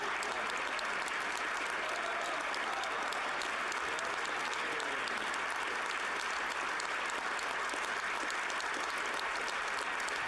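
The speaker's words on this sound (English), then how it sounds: "maybe we'll skip the 5 minutes of applause" Long, sustained applause from a large audience after a speech, a dense and steady wash of clapping that never lets up, with no voices standing out.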